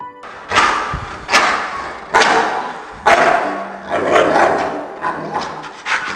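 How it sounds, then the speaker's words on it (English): A dog barks in a series of sharp, loud, roughly evenly spaced bursts close by, with no talking. "This is how you quiet your dog when your dog is doing barking."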